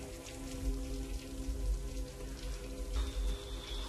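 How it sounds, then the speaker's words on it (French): Rain falls steadily, with close patters and drips landing on a hard surface over a low background hum, and a faint high tone entering near the end. "Ça fait 3 jours qu'il pleut"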